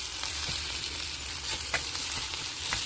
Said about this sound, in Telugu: మొత్తం కూర అంతా కలిసేలాగా ఇలా నొక్కుకుంటూ కలిపి బాగా కలిసింది